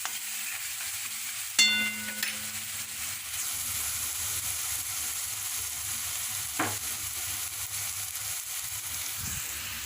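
Something sautés in a pan while a salted eggplant dish is cooked, an even close sizzle throughout, broken by a sharp metallic clink near the start and another soft knock later.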